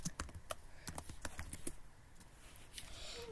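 Fast typing on a computer keyboard, a quick irregular run of light clicking keystrokes that is near and fairly quiet over a soft background hiss.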